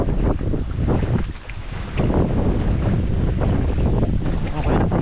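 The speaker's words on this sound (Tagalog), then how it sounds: "Oh, grabe lakas ng hangin." Strong wind buffets the microphone outdoors beside a calamansi orchard where a canal has been dug for irrigation, a steady loud roar with gusting swells throughout and a brief lull near the middle, with no voices.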